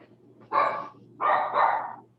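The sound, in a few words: dog barking in a participant's room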